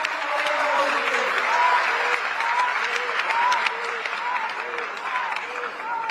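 Steady, loud applause from a large crowd at a university convocation ceremony, Netaji Subhas University of Technology, with some voices faintly mixed in beneath the clapping throughout.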